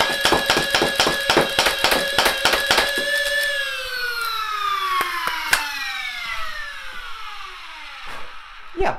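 A 3D-printed Nerf Gryphon Stryfe-clone blaster fires a rapid burst of darts, a loud run of sharp mechanical cracks with a whirring flywheel whine that then spins down in a long falling tone, broken by a few more isolated shots.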